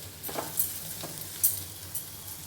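Carrot fry cooking in a pan over a low flame, a steady soft sizzle with a few light stirring scrapes, close and fairly quiet, with no voices.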